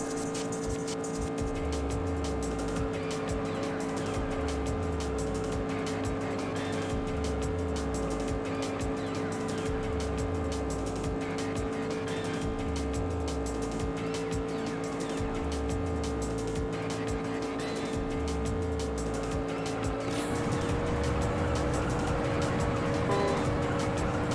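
A Mazda MX-5 races in Juiced, its engine holding a steady drone with repeated rhythmic pulses, then the tone shifts and roars louder near the end as nitrous kicks in.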